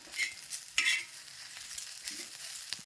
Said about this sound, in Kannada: ಮೆಣಸಿನ್ಕಾಯಿನ ಹುರಿದ್ಬಿಟ್ಟು ತೊಗೋತೀನಿ ರೀ